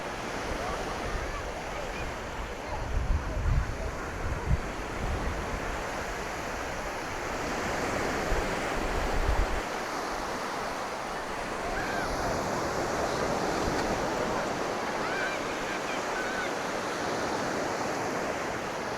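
Sea waves wash and churn the sand at Porthminster Beach, St Ives, Cornwall, a broad continuous roar of surf with gusts of wind buffeting the microphone.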